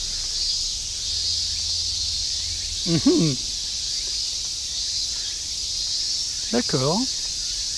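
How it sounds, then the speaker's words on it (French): Crickets and cicadas in a Japanese garden in Mejiro produce a deafening, continuous high-pitched shrill chorus, with a person briefly speaking twice beneath it. "je sais pas combien il y a de cigales"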